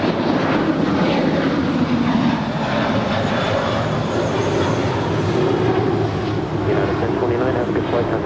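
A United Airlines Boeing 737-800 takes off from LAX, its jet engines roaring loud and steady in a broad, constant rush that fills the whole stretch without letting up.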